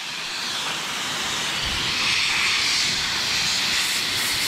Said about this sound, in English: There's an air leak over here.